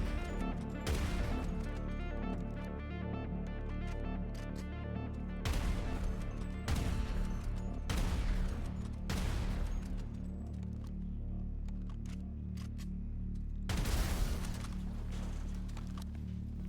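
Heavy explosive rounds hitting a Chernobog missile vehicle in GTA 5 Online, with about five loud booming impacts spread out over steady game background sound and no talk.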